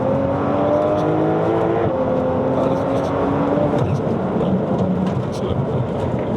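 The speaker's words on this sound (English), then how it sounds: "Manual mode, open that exhaust." A Porsche 992 Carrera cabriolet with a Soul Performance exhaust accelerates hard in manual mode with the exhaust open, a loud sustained engine note rising in pitch through a gear, close and steady with wind noise.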